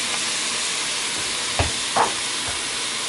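Bacon for keto chili cooks in a pot with a loud, continuous broadband sizzle and hiss, with a couple of dull thumps as pieces land or are moved, and no voices.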